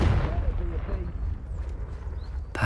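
The Confringo fire spell in the video game Hogwarts Legacy sets off a deep rumbling blast that fades away, and a sharp new burst comes right at the end.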